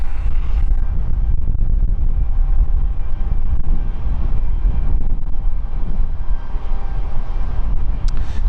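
Airbus A220-100 airliner, registration Julio Bravo Indigo, at London City Airport, a continuous broad engine roar with low rumble, steady and fairly near across the whole stretch.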